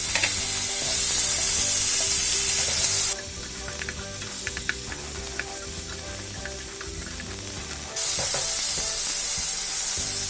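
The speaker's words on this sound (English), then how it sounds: "I'm now going to add some chopped tomatoes" Chopped tomatoes fry in a hot pan for pasta with makhani sauce, giving a loud, continuous sizzle and hiss with scraping stirs and a quieter stretch in the middle.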